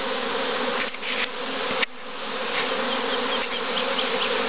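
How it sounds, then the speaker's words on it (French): A honeybee swarm pours out of a hive in a dense, continuous buzzing drone of many bees, loud and close, with a few brief dips and no voices. "il y a un essaim qui se barre"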